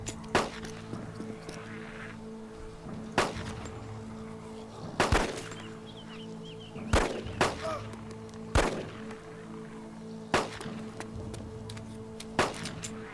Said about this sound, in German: Ich kann richtig hart rumballern jetzt.